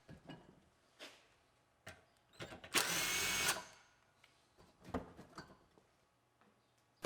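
A power tool spins off bolts under a truck near the driver's-side wheel liner during teardown. One short, sharp whirring burst comes amid scattered clanks and handling knocks.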